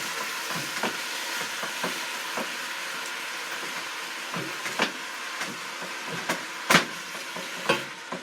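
Ground hamburger meat sizzles without added oil in a 6-quart enameled Dutch oven, a steady close frying hiss broken by occasional louder pops and crackles, with no talking.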